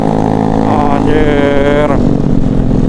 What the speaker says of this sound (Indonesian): Pada bacot-bacot nih knalpotnya nih.